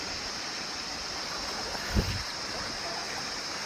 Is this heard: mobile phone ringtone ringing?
no